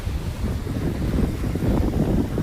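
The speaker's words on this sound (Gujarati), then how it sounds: "હવા જોઈ શકો ભાઈ કેટલા ભાડ ઉડે" Strong wind blows at Okha beach on the Gujarat coast, a loud, constant roar and buffeting against the microphone, with the sea faintly underneath and no voices.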